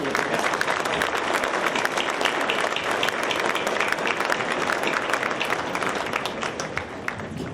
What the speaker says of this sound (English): I ask for a large round of applause for all these people and the people of the past.